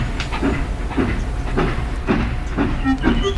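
A cartoon steam engine chuffs away in a steady rhythmic series of puffs and hisses, about two beats per second, loud and close with rail clatter underneath.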